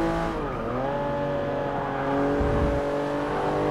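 Porsche 911 Turbo S in Forza Motorsport 6, its engine note dipping at a gear change then climbing again in a loud, continuous rising whine under hard acceleration.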